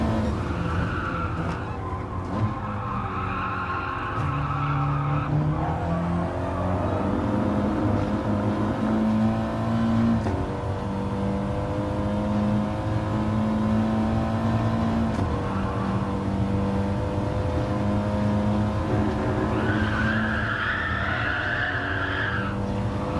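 Audi TT Gr4 race car lapping in Gran Turismo Sport at Dragon Trail Seaside, its engine droning continuously while tires squeal and skid through corners, with shifting pitches and gear changes across a long stretch.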